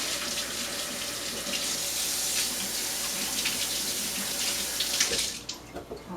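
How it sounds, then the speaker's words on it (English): Tap water runs steadily into a sink as hands are rinsed, a continuous close splash that tapers off near the end. "Now, I'm going to rinse my hands quickly"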